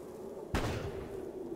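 A single sharp gunshot crack from the turn-based game Fallout Tactics, faint, with a short decaying tail over a steady low hum.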